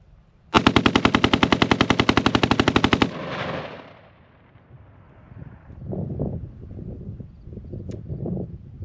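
GAU-5 style rifle fitted with an Atrius Super Selektor firing one rapid automatic string of about two and a half seconds, loud and close, then echo and wind-buffeted outdoor ambience.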